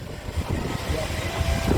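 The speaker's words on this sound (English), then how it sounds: "Little Showman's tractor coming through," A showman's steam traction engine rumbles close by at a steam rally, low chugging and mechanical churning with a windy, blustery background.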